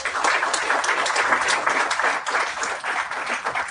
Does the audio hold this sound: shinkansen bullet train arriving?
no